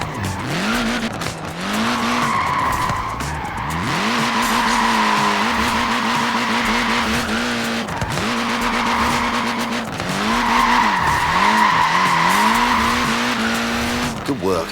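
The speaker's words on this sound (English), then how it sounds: "Look at that, laying down some rubber there." Tiny tyres on a Mini car skid and squeal in the racing game Forza Horizon 4, with repeated long squeals and engine drone pulsing over the scene and talk in the background.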